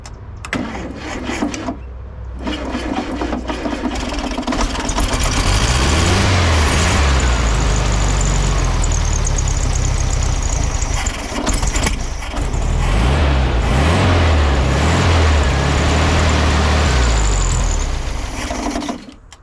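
A 1970 Volkswagen Beetle engine cranks and then runs, a loud close rattling mechanical drone with uneven surges and dips in the idle before cutting off near the end, no speech.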